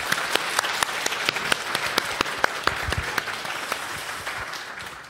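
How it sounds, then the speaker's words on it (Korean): Applause of encouragement from a church audience, steady clapping with sharp individual claps standing out, moderately loud and sustained for several seconds, slowly fading toward the end. "우리 두 분을 위해서 우리 격려의 박수 한번"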